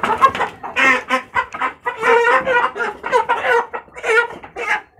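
Chickens clucking loudly and continuously in a dense, busy burst of calls, close by, during a Jamaican attack dog's encounter with chickens; no voices are heard.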